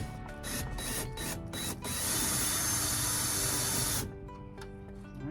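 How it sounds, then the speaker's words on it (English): A loud, continuous whirring of a Craftsman power drill spinning its bit instead of the fastener for a few seconds, while replacing a 2010 Ford F-150 side mirror. Short rapid bursts come before it and fainter clicks after. "Looks like my drill's spinning the bit and not the where it's supposed to spin."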